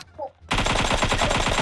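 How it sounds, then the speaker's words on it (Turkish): Rapid automatic gunfire rattles from a video game shooter in a dense, loud, continuous burst that follows a moment of near silence. "Adam bana sıkıyor."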